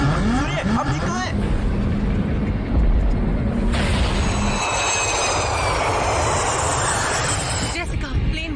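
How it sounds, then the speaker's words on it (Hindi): A steady airplane engine drone in flight, loud and continuous, with a dramatic sound-effect character as a passenger jet crosses a volcanic ash cloud, and voices speak over part of it. "जेसिका, प्लेन वोल्केनिक ऐश क्लाउड से गुजर रहा है। इससे इंजन पर खतरा हो सकता है"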